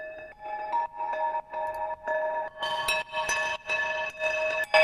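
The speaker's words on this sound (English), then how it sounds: "So I have these ice bells." Ice bells synthesizer preset played as a glitch-hop sound design patch, bright sustained bell tones struck in a steady sequence of separate notes, clean and close with no other sounds.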